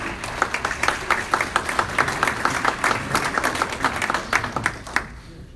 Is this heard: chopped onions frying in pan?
no